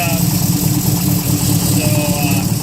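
Warmed-up engine of a Mitsubishi Mirage converted to an Evo IV coupe idling close by, a steady mid-pitched rumble with no revving.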